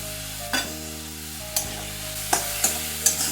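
Ground coriander, cumin, turmeric and Kashmiri chilli powder fry in a pan with a splash of water for a bitter gourd curry, giving a steady low sizzle broken by a few sharp spatula scrapes and knocks against the pan.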